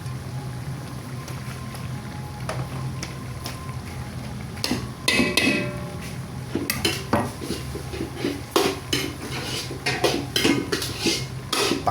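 Spoon stirring a stew of peas, carrots, potatoes and meat in a metal pot, soft scraping and clinking of utensil against pot with a light simmering hiss, scattered knocks growing busier toward the end, close by.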